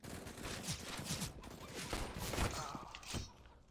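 Fast gunfire rattles in a first-person shooter, Operation Phoenix, in a steady stream of close, crackling shots with a faint but dense, continuous sound.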